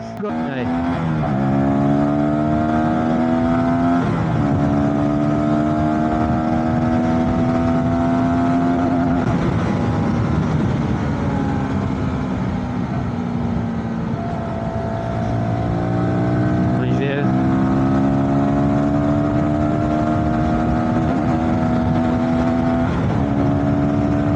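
A light VOGE 125R motorcycle engine drones steadily while riding, its pitch rising as it accelerates through the gears up to fifth, close and loud throughout with no talking.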